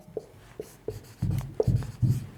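Pen or chalk strokes writing out a Class 11 straight-line maths problem, a series of short scratchy taps that grow into denser, louder scribbling toward the end, close and alone with no voices.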